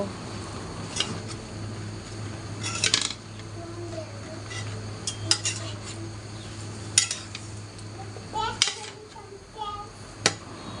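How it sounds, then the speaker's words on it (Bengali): Taro leaves frying in a pan are stirred and turned with a utensil, giving intermittent metallic scrapes and clinks over a low sizzle, with faint voices in the background. "এখন আমি উল্টিয়ে পাল্টিয়ে দেব।"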